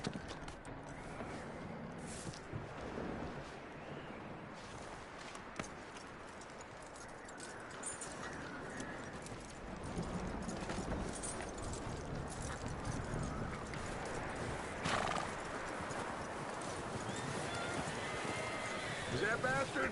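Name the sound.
horse hooves and neighing in a video game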